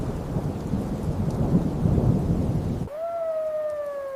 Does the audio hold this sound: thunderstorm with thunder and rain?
yes